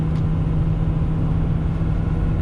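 A truck engine holding eighth overdrive gear while climbing a hill at about 57 to 58 mph, a steady, loud low-frequency drone with a constant hum and no talking.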